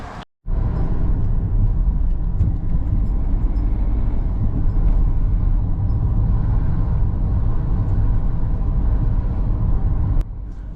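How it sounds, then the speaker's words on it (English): Steady, loud rumble of a car driving along Smalley Mill Road between villages near Horsley, continuous engine and road noise for the whole stretch with no talk, after a brief cut at the start. "So now we're driving south from the village on Smalley Mill Road."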